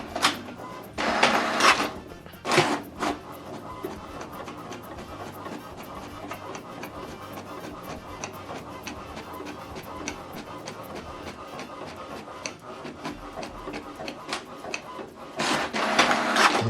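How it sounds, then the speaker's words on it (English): An HP printer printing a document whirs and ticks mechanically in steady rapid clicks for most of the time, with louder rattling feed bursts near the start and end, close and fairly loud, no talking. "Now this document is printing."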